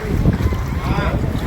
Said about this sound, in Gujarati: હા ધૂમ બાઈક નીકળી અહીંથી.